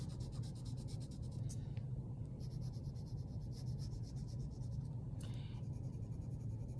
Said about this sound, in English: I'm holding the colored pencil on its side. I'm not using the point of the colored pencil.